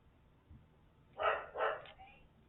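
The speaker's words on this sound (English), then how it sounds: "My neighbor's dog barking." A neighbor's dog barks twice in quick succession, slightly muffled and at a moderate distance, with quiet background noise before and after.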